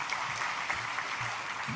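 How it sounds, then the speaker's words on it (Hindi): An audience at a cooperative sector event claps to welcome India's home minister Amit Shah, a brief, steady wash of applause heard from a distance without any talk. "हम सब तालियां बजाकर उनका दिल से स्वागत करेंगे"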